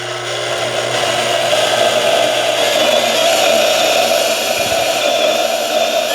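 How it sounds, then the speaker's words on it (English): Portable band saw cutting stainless steel sanitary tubing, a loud, continuous, steady whine and grinding hiss that runs without a break from start to finish. "So I'm going to go ahead and cut this, probably with a portaband"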